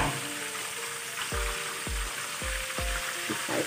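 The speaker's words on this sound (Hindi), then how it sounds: "मैं दो दो डाल रही हूँ ताकि अच्छे से फ्राई हो जाए" Chicken burger patties fry in oil in a pan, a steady close sizzle broken by several sharp scraping strokes at a regular pace, with no one speaking.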